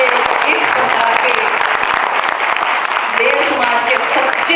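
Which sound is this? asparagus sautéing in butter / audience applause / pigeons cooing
audience applause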